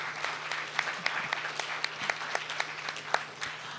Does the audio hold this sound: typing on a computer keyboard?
no